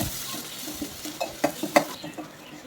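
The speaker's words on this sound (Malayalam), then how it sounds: "വെളിച്ചെണ്ണ ചൂടായി വരുമ്പോൾ നമുക്കതിലേക്ക് ഒരു അഞ്ചാറ് ചുവന്നുള്ളി മൂന്നാല് വെളുത്തിനും കൂടി ചതച്ചത് നമുക്കതിലേക്ക് ഇട്ട് കൊടുക്കാം ഒന്ന് മൂപ്പായി വരട്ടെ" Crushed shallots and garlic fry in hot coconut oil, a steady sizzle broken by several sharp scrapes and clicks of a spoon stirring against the pan, close and clear.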